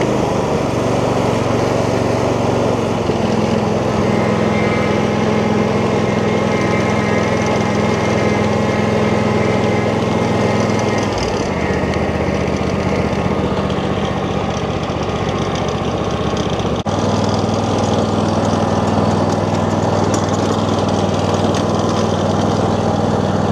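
A small engine tows a Yardworks 48-inch plug aerator across a lawn, a steady loud drone that shifts pitch and load partway through with a knocking, rattling edge from the spikes, with no talk.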